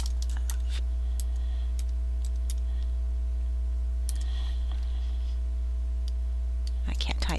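Someone types on a computer keyboard, irregular clusters of light clicks and taps over a steady electrical hum, with a short burst of faster keystrokes near the end.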